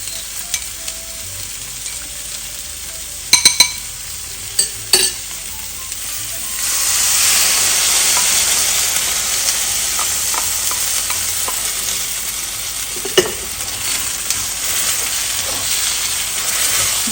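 Chicken and broccoli stir fry sizzles steadily in a hot pan as chili-garlic sauce goes in, with a strong hiss swelling partway through and a few sharp clinks of stirring utensils near the start.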